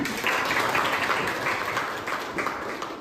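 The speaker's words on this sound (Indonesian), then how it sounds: "Baik, tepuk tangan." A room full of people clapping steadily for a few seconds, dense and even, with no voices over it.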